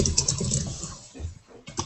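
Someone types rapidly on a computer keyboard close by, producing dense bursts of clicking keystrokes with a short pause before the tapping resumes.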